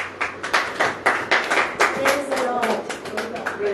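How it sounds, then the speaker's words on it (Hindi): A church congregation claps along in rhythm, a run of sharp, evenly spaced hand claps filling the room with a faint hum underneath. "अब ताली बजाओ।"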